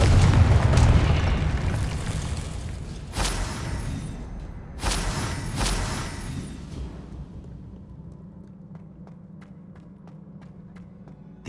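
Confringo spell blasts in Hogwarts Legacy boom in a heavy opening rumble, followed by two sharp explosive bursts that trail off into a low hum with faint footsteps.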